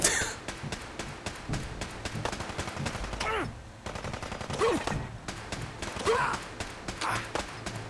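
Turret gunfire in Fallout 4 cutting down basic super mutants: rapid bursts of automatic shots in a steady clatter throughout, with grunts and pained vocal sounds from the creatures mixed in.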